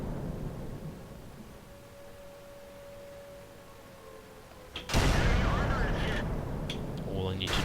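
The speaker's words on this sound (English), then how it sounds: "All I need to do now is keep shooting." A single heavy tank cannon shot in the World of Tanks video game, a sudden loud blast that booms and rumbles on after a stretch of steady engine noise.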